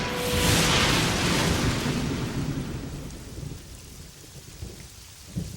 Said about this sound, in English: Thunder shook its bark. Rain weakened its roots. Lightning bolts shot across the sky.